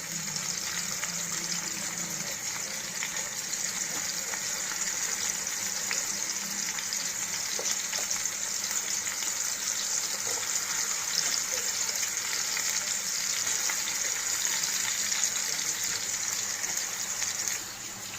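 Mutton keema frying in a pan with green chillies, a steady close sizzle holding level throughout with no pauses and no talk.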